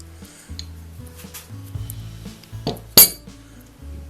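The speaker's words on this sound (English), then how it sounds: "The auto wrench." A drop-forged Barkalow auto wrench from Buffalo is handled and set down on a workshop surface, giving scattered metallic clinks and knocks with one sharp bright clank near the end, close and otherwise quiet.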